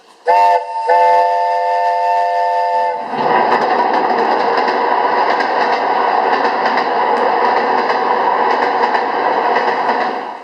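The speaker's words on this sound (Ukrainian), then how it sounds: "Поїзд відправляється." During a stage play set at a railway station, a train whistle sounds twice, a sustained chord-like blast that gives way to a loud, continuous rumble of a departing train lasting several seconds, close and dominant with no talking.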